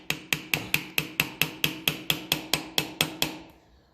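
A small flathead screwdriver struck by a hammer to drive out an old bushing on a 1954 Ferguson TEF 20 diesel tractor, about fourteen sharp metallic blows in an even rhythm, close and loud, then fading.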